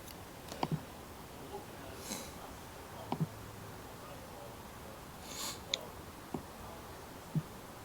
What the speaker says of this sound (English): right click, replay all